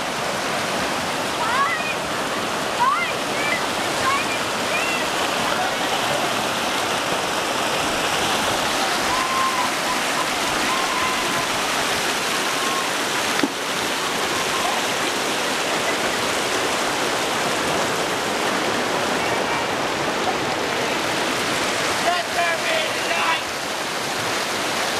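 A river rushes steadily and loudly along a mountain hiking trail at Christmas Meadows, its broad continuous wash filling the whole stretch with a few faint splashes and thuds from rocks being thrown in.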